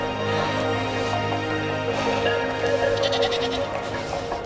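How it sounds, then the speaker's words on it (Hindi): A flock of goats on a mountain trail along the Karakoram road, several animals bleating repeatedly close by over a continuous background rumble, with a voice speaking partly over them. "देखिए, बकरियों का झुंड।"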